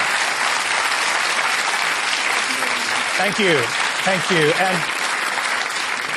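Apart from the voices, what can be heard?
studio audience applause for the panel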